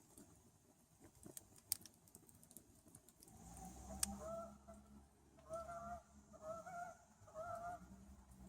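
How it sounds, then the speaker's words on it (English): Several harsh, honking bird calls, likely turkeys, sound in a loose series outside a shelter in the woods, fairly close, with faint clicks and rustles nearby and no talk. "It sounds like turkeys."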